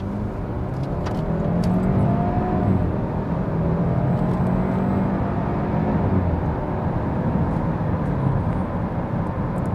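A BMW 320 xDrive M Sport car pulls away and drives on, its engine note rising steadily and holding as it gains speed, with steady road and tyre rumble heard from inside the cabin.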